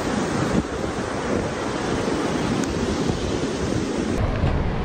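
Waves wash in at the water's edge under wind and drizzle, a loud continuous roar of surf with heavy wind buffeting on the microphone.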